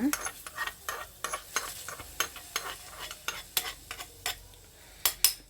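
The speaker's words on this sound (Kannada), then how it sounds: "ಒಗ್ಗರಣೆ ಹಾಕಿ ಮಿಕ್ಸ್ ಮಾಡೋಣ" A spoon clatters repeatedly against a pan while chillies in a tempering for curd rice sizzle faintly in hot oil beneath, the sharp scraping strikes coming in an uneven series.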